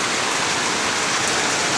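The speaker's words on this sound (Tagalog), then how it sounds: "Ang lakas ng ulan." Heavy rain pours down hard and steadily, a dense, continuous wash of close drumming with no pauses and no voices.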